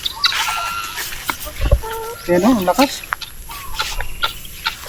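Domestic chickens on a farm cluck in short, agitated bursts close by, with a sharp squawking run in the middle, while someone talks over them.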